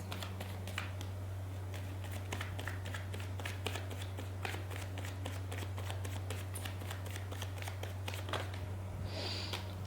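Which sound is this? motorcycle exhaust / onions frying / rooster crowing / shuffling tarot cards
shuffling tarot cards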